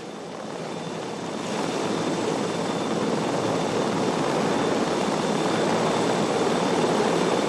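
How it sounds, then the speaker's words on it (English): An Israeli military helicopter landing in Tel Aviv in the early hours: a steady, loud, broadband rotor and engine roar that swells after the first second and holds continuously, with no voices. "an Israeli military helicopter landed in Tel Aviv in the early hours of Tuesday"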